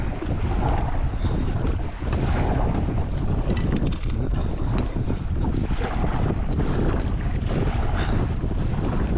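Steady wind roars and buffets the microphone while paddling a kayak on Lake Eufaula, a loud continuous rush with faint water sounds beneath and no talking.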